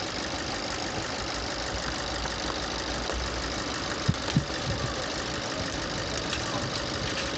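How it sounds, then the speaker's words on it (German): A car engine idles steadily after overheating to about 112 degrees, left running so coolant keeps circulating on a trip through China; a continuous even rumble with a couple of brief knocks midway and no talk. "warum lassen wir den Motor weiterlaufen?"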